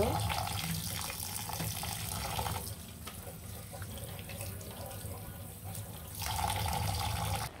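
Rice being rinsed under a running kitchen tap while cooking beef bhuna, a steady splashing water stream that briefly softens in the middle before returning at full strength.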